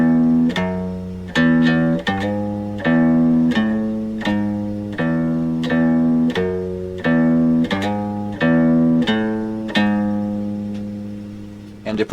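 An electric guitar plays a theme riff on a single string, low plucked notes repeating in a steady looping pattern with slides, clear and close without talk.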